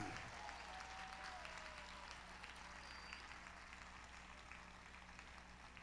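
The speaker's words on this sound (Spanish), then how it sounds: "Y lo va a aplaudir, hágalo con fuerza." Congregation applauding during an evangelical church service in Managua, Nicaragua, sustained dense clapping from a crowd that continues steadily throughout at moderate level.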